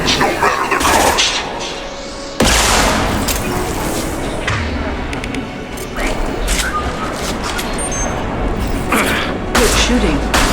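Sustained gunfire in a Mass Effect 2 firefight during the Shadow Broker's lair mission, loud and continuous with heavy blasts and impacts throughout, and voices speaking intermittently beneath the shooting.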